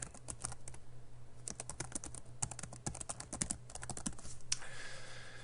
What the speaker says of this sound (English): So it's very easy just to come in here and type.